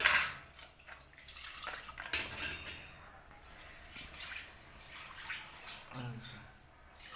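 Water is poured into a cooking pot for chicken curry, a soft splashing trickle that comes and goes quietly at close range.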